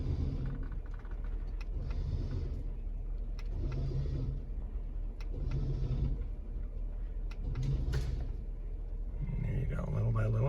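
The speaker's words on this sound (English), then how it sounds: "I'm going to tension it up with the winch a little bit here" A receiver-mounted winch pulls its cable taut, giving a close mechanical whir that comes in repeated bursts with short pauses, over a steady low rumble.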